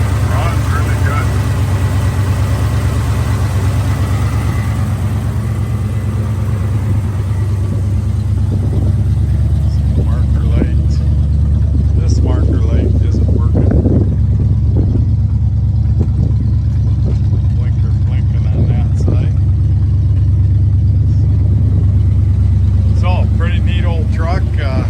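A 1977 Ford F350 tow truck engine runs steadily with a deep, continuous low rumble throughout, while a person talks over it nearby.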